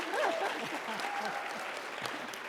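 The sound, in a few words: audience applause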